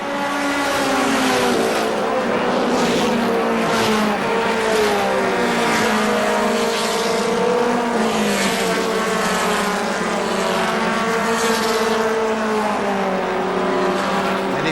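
Racing trucks battling three wide for the lead at KilKare Speedway, a continuous loud drone of overlapping engines rising and falling in pitch as they run close together, with no voices.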